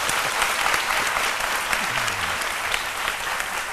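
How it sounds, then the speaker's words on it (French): Studio audience applauding on a midday television show, steady dense clapping throughout with a low voice briefly audible beneath. "Applaudissements pour lui"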